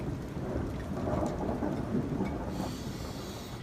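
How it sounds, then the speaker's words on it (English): Rolling thunder during a thunderstorm with rain, a low distant rumble swelling and fading over steady rain hiss. "Boom, almighty thunder, boom."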